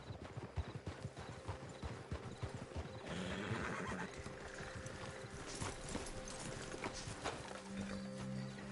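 Horses in Red Dead Redemption 2 walking as their riders dismount, with close clip-clop hoofbeats and a whinny over an outdoor ambience that thickens midway, and no talking.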